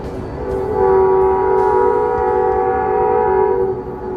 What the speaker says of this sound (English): I think the train goes right through the middle of town.